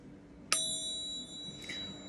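A small toy bell struck once, a bright ringing ding that sounds close and then fades away slowly, with a faint second chime just after.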